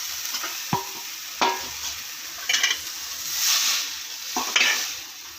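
Coriander leaves sautéed and stirred in a pan for chutney, a low steady sizzle broken by several sharp scrapes and clinks of a spoon against the pan, close and without talk.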